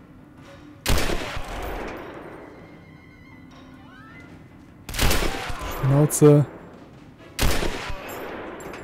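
Gunfire in the video game Turning Point: Fall of Liberty: three loud, sharp shots spaced several seconds apart, each with a short decaying tail over low game ambience, with a brief spoken word between them.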